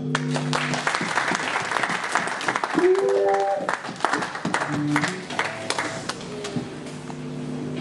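A church congregation applauds and claps steadily, with a voice speaking and sustained tones sounding over the clapping throughout.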